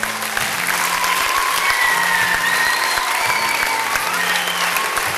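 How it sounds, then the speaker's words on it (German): Loud audience applause for a school band's drummer, a ninth-grader, fills the hall in a thick, continuous roar of clapping with faint cheers rising above it. "Applaus für den Pascal Link."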